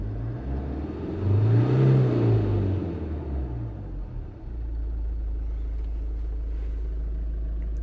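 A Kia Sedona 2.9 CRDI diesel engine in limp mode with fault codes P0087 and P0088 revs up, its tone rising and falling over about three seconds, then settles back to a steady, low idle hum.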